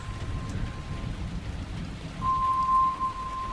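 Steady rain hisses and patters throughout, with a faint thin tone running underneath that grows a little louder near the end.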